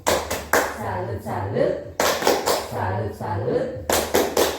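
A group performs the rhythmic 'tepuk salut' clapping routine at a parenting session, with sharp bursts of claps in a patterned sequence that repeats, alongside voices chanting along between the clap groups.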